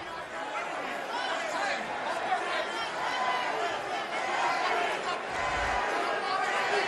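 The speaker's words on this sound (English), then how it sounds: "the crowd, of course, starting to get into the fight, too" Boxing match crowd in an arena during the eighth round of Eddie Gomez vs Daquan Arnett, a steady, dense roar of chatter and cheering that holds at an even level throughout, with no clear speech on top.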